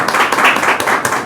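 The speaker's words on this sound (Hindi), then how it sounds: "परमेश्वर के लिए जोरदार ताली बजाते हैं" A church congregation at a Sunday evening service claps loudly for God, a short, close burst of dense hand claps with a few sharper individual claps standing out, and no talking.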